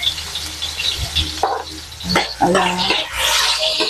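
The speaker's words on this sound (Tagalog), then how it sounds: "So, nagsusuti na tayo. Nagsusuti." Ginger and garlic sautéing in a pan, a steady sizzle with stirring scrapes and clanks throughout, close and moderately loud, with a brief spoken word.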